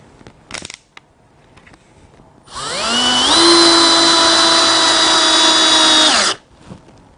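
A Bosch GSR1080 cordless drill driver whirs up and runs steadily for about four seconds while driving screws, a close, loud, high-pitched motor whine that stops abruptly, with small handling clicks before and after.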